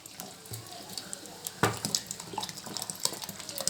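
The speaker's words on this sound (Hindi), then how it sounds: "फिलहाल हम इसमें तकरीबन 1 लीटर पानी शामिल करेंगे" Water poured into a pot of kadhi pakora masala, a splashing, trickling stream with small clinks and bursts, fairly close, no talk.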